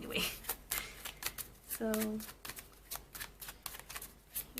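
Tarot cards are shuffled in quick riffling bursts that run steadily throughout, close and fairly quiet, with a person speaking briefly over them.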